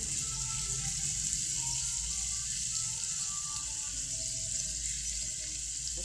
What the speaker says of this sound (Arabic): هحط السجق اهو واقلبه